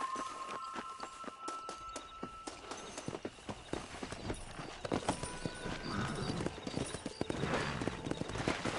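Horse hooves clip-clopping on a ride in Red Dead Redemption, a steady rhythmic trot of close, crisp hoofbeats that quicken and grow louder, with a brief whinny and a bit of gear rattle mixed in.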